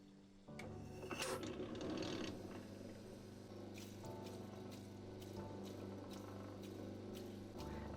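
An opal is trimmed on a lapidary cutting wheel to remove excess potch from the edge, giving a steady grinding whine with a harsh rasping bite that starts abruptly and continues evenly.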